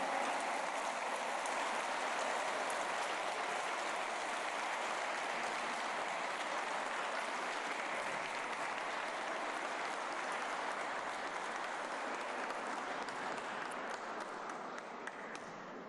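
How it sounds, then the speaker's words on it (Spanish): An audience at an official ceremony honoring award-winning teachers in Mexico applauds steadily, a dense, even wash of clapping that holds for a long stretch and tapers slightly at the end. "Brindemos nuevamente un aplauso a las maestras y maestros galardonados."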